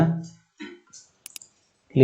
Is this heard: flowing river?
no